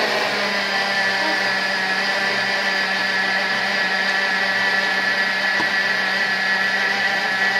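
A Thermomix runs at speed 5, mixing egg white into sprits dough with a steady, loud whirring drone that holds without a break from start to finish.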